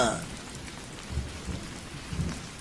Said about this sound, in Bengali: দেখছেন তো বৃষ্টি নেমেছে